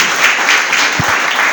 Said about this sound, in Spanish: ¿Cuánto le dan un aplauso a Él?